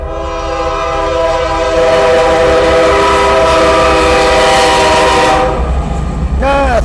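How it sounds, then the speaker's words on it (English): A CSX freight locomotive passes close by, its loud, sustained multi-tone horn blaring over the heavy rumble of the train for nearly the whole stretch before the horn sweeps and fades out at the end. "Yes, I found the CSX locomotive"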